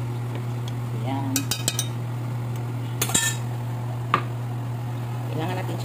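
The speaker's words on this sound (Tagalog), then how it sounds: "Kailangan natin siyang haluin ng mabuti." A metal utensil stirs carderita made with peanut butter and pickles, giving a few brief clinks and scrapes against the pot over a steady hum, with a voice speaking faintly.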